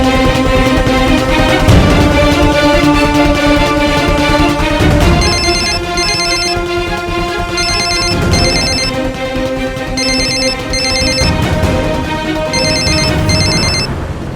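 A telephone rings continuously with a bright electronic tone, loud and close, repeating in regular bursts over a steady backing tone.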